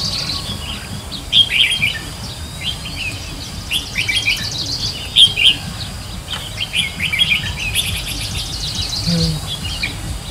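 Small birds chirp and tweet near a bird-trapping decoy outdoors, with bursts of sharp high calls coming and going over a faint low background rumble.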